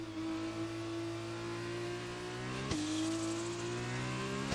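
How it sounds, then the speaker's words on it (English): A race car engine in the F1 2020 video game holds a steady high whine, then one sharp shift or bump before the pitch climbs again, continuous and alone without talk. "I don't know if you can hear me over the engine sounds."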